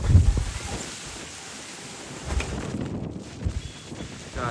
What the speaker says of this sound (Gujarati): પવન બહુ છે એટલે અવાજ નહીં આવતો.